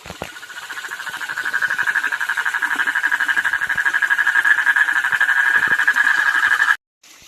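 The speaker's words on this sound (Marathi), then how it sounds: "हा बेडूक बघा कसा आहे, त्याच्या पाठीवरती एक बेडूक बसलेला आहे." A dense, steady chorus of frogs croaking in a Konkan evening, one frog perched on another's back; the rapid pulsing calls build up, hold loud and continuous, then cut off abruptly near the end.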